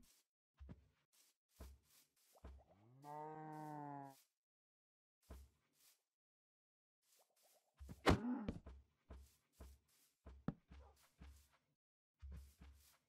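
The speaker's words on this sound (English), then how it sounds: "this can be just for the cow because he's just one lad" A Minecraft cow lets out a single drawn-out moo among soft blocky footsteps and thumps of in-game movement, fairly quiet with gaps of silence and no talking.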